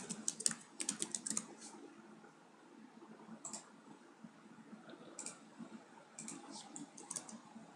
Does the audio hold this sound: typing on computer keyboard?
yes